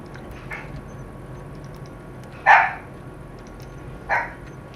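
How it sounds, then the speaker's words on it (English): Dogs barking in Microsoft Flight Simulator, let out of a DA62 airplane onto the infield grass: two short, sharp barks a couple of seconds apart over a low steady engine-like hum, with a few fainter yips earlier. "So I just let the dogs out of the airplane."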